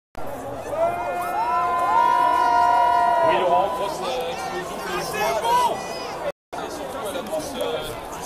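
A large crowd of En Marche supporters at the Louvre in Paris cheers and chatters, with loud sustained shouting and whistling up close, a short cut in the middle, and a reporter speaking over the hubbub.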